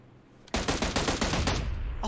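Rapid automatic fire from an M762 rifle in the video game PUBG Mobile, a dense burst of gunshots starting abruptly and running for about a second and a half, loud and close.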